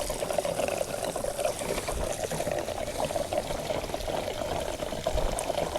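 Gasoline poured from a container into the fuel tank of a Mazda 6 with a no-crank, no-start fault, a continuous gurgling splash, fairly faint and steady for several seconds with no talk.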